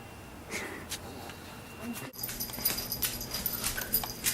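Dogs snort, sniff and whimper close by indoors in short, soft bursts, with people talking quietly at times.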